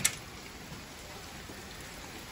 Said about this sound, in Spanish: Oh, llueve.